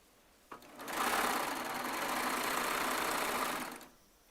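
A Baby Lock Triumph serger runs in a steady, fast whir for about three seconds, sewing fabric strips together, starting abruptly and stopping with a brief wind-down, close and alone.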